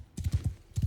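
Cavalry horses' hooves clop in a Mount and Blade II Bannerlord battle, two quick bursts of rhythmic hoofbeats separated by a short pause, fairly close and clear.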